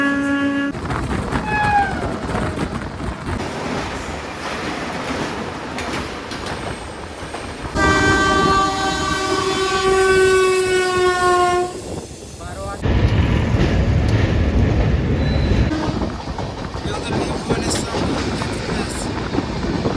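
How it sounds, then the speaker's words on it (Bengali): A Bharat Gaurav tourist train rumbles close by on railway track, and a long, loud horn blast sounds midway, while people talk nearby. "এটা হচ্ছে ভারত গৌরব ট্রেন,"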